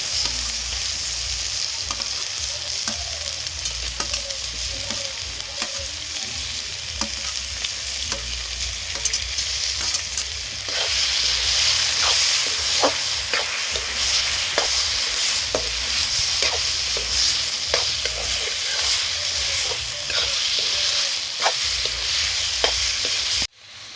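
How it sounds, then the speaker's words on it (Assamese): Steady crackling sizzle of salted kuchia (eel) fish frying in a covered pan, continuous and fairly loud throughout, with occasional sharp pops and no talking. "জুইত ঢাকনি দি দি ভাজি আছোঁ"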